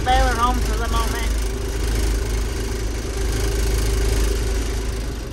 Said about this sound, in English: His tractor drives me nuts.